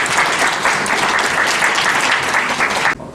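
A crowd at a Korean New Year event claps loudly and continuously for a speaker, the dense applause sustained and then cutting off abruptly near the end.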